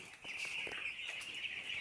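Chickens cluck softly inside a poultry house holding around eight hundred birds, a faint continuous flock murmur with scattered short calls and no one speaking.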